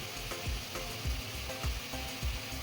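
Potatoes and jackfruit being stirred with salt in a frying pan, with a soft continuous sizzle broken by regular spatula scrapes about every half second, close and fairly quiet.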